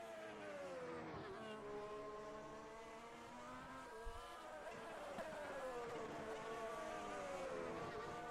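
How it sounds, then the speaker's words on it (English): F1 2020 race cars roar around Zandvoort in a video game, with several engines whining and shifting pitch as one car spins off, continuous and moderately loud, with no voice over it. "We see Trojaslowski spinning off once again."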